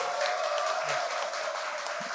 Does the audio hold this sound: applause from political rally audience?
yes